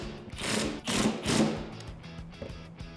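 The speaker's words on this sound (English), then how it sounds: "what we can do is just take our impact wrench" An impact wrench with a 14mm socket tightens nuts on a front strut of a Toyota Tacoma during a leveling kit install, three quick loud buzzing bursts up close, then quieter clatter.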